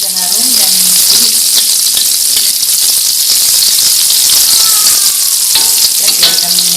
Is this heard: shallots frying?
yes